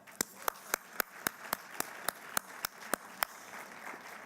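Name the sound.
applause from conference luncheon audience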